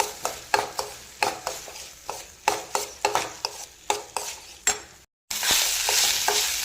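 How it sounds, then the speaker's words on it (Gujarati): Tomato rice with cooked-down tomatoes is stirred in a pan, giving repeated rhythmic scraping strokes over a light sizzle, then a short gap followed by a steadier, louder frying hiss, all close with no talking. "હવે આપણે ભાત નાખી દઈએ। સારી રીતે મિક્સ કરી લઈએ।"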